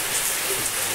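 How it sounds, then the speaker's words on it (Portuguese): Rain falling steadily in a broad, even hiss of drops, close and loud, on a rural property in Cocos, Bahia, without any talk. "A chuva tá caindo."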